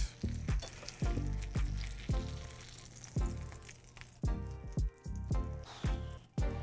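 A hot ham and cheese sandwich just out of the oven sizzles quietly, a fizzing crackle broken by soft repeated pops and drips, close and alone without talk.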